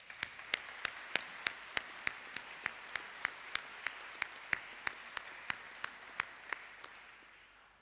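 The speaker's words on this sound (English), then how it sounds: "I think you'll all agree he deserves a round of applause." A sparse, steady round of applause for the organist at a Kirklees Council Mayor Making ceremony, individual claps spaced evenly and distinct, a small audience clapping in a large hall with no voices over it.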